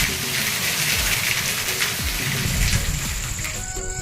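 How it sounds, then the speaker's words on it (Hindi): Heavy rain pours down steadily over farm fields in a rural village, a dense continuous hiss with splashing water and gushing runoff, with no voices. "बहुत ज़्यादा पानी गिरे है"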